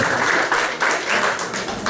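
A church congregation claps for the Lord in a dense, continuous round of applause with rhythmic swells, loud and close, with faint voices mixed in.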